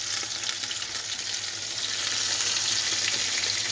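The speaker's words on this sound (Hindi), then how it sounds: "इसको मैं इसी मसाले के अंदर 3 से 4 मिनट तक जो है गोश्त को अच्छी तरह जो फ्राई करूँगी, अच्छी तरह भून लूँगी मैं" Tender beef frying in masala for white yakhni pulao, a loud, dense, continuous sizzle that holds steady throughout with faint stirring beneath it and no voices.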